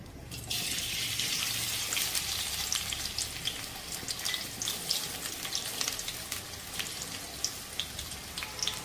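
Chopped onions, about 125 grams, frying in hot oil for mutton biryani give off a steady, loud, close sizzle with bright crackling spatters throughout and no talking.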